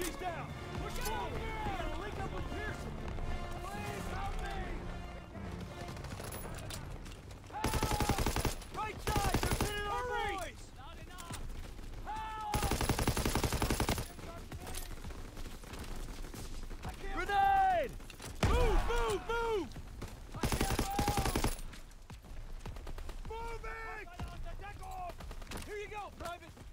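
Bursts of machine gun fire in a Call of Duty: WWII campaign battle, short loud volleys coming and going amid combat noise, with soldiers shouting commands over the gunfire throughout.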